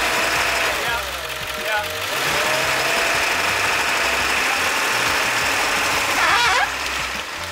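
A van engine drones and revs hard while the driver tries to climb onto a wooden plank to get unstuck, with pitch rising and falling twice. People talk over the engine noise.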